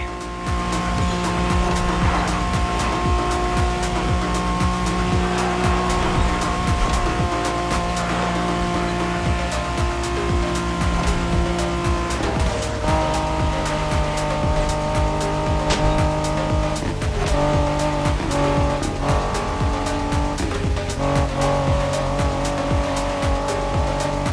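A special NSX race car roars through a Crew Motorfest race, its engine revving steadily with shifting pitch and tires squealing in spurts, loud and continuous throughout with no voices.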